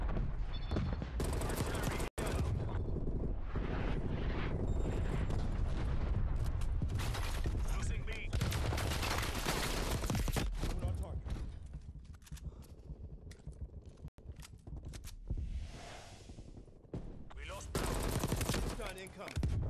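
A hostile artillery strike in Call of Duty Black Ops Cold War, with dense, loud rolling blasts and rapid gunfire bursts in a continuous barrage, and voices heard among the explosions.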